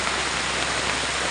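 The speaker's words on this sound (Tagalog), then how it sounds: "Yan mga ka-right, napakalakas ng ulan." Heavy rain comes down in a dense, constant hiss, loud and even across the whole short stretch, with no voices.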